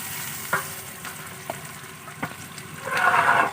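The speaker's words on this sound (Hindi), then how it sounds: "टमाटर को भी फ्राई कर लेंगे।" A kilo of tomatoes frying in a large biryani pot for chana biryani, with a steady sizzle, occasional stirring clinks, and a louder hiss swelling toward the end, close by with no talk.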